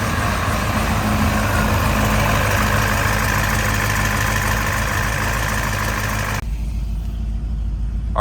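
The engine of an 1100-horsepower Cadillac CTS-V idles with a loud, steady, rough rumble heard close, running continuously until the higher hiss drops away near the end while the low idle carries on.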